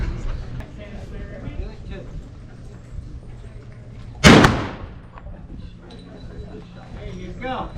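A single sharp, loud gunshot rings out outdoors in Oatman, Arizona, fired at a target, with a decaying echo behind it and people chatting before and after.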